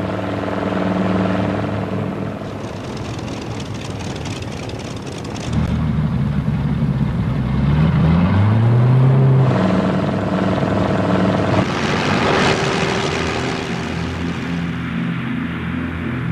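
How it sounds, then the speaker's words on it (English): Heavy propeller bombers taking off in 1943 during Operation Hydra, a loud, continuous multi-engine drone that swells and shifts in pitch as the aircraft pass close by, with no voices. "597 heavy bombers took off from Great Britain."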